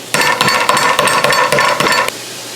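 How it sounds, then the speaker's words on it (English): A hammer pounds beef under plastic wrap for rouladen, a rapid run of hard, loud, close blows with slight clinks, continuing steadily for about two seconds and then stopping. "we're going to flatten it even more with a hammer"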